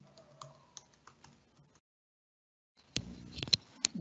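Password typed on a computer keyboard, with a few scattered soft key clicks, a pause of near silence, then a quicker cluster of sharper, close taps.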